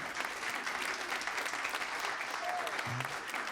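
Comedy club audience applauding a stand-up comic, a continuous wash of clapping at moderate level with a brief faint tonal chirp near the end.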